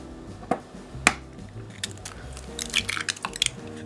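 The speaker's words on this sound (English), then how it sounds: "You're gonna add both eggs." Eggs cracked into fat-free milk in a bowl, two sharp shell cracks followed by soft wet squishes and drips as the contents slide in, close and quiet.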